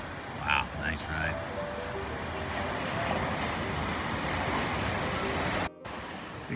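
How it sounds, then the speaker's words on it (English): Ocean waves break in a shore break on a Cape Cod beach, a broad continuous wash of surf with a few brief voices near the start. "the sound of these waves coming in"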